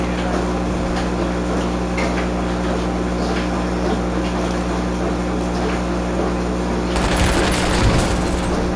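Video game gunfire during a squad battle-royale fight, a continuous rapid rattle of automatic shots over a droning engine-like hum, getting louder and denser near the end.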